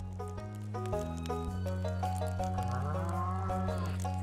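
Cows mooing in the farming video game Stardew Valley, a series of short, clear synthesized moos in quick succession over a steady game music backdrop.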